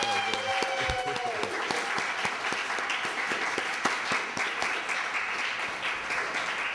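An audience at a poetry reading in a branch library gives a steady round of applause, a continuous wash of clapping with a few sharper individual claps, heard from a modest distance.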